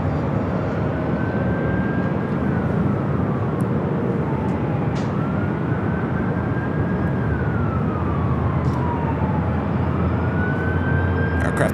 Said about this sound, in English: Aircraft that just took off on the south side was a flight heading to Honolulu